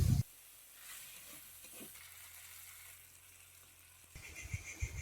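Potatoes and yardlong beans with spices and salt being stirred in a pan, producing a faint, low hiss with soft intermittent scrapes, quiet and close; a brief louder clatter comes at the start and again near the end.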